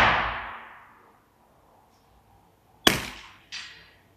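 Two sharp suppressed gunshots about two-thirds of a second apart, each a loud crack with a quick decaying tail, follow a long fading report at the start and a near-silent gap.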